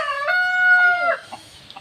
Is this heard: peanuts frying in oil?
no